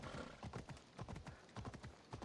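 Horse hooves clip-clopping in Assassin's Creed Odyssey, a rapid rhythmic run of hoofbeats with a soft whinny mixed in, fairly quiet and steady.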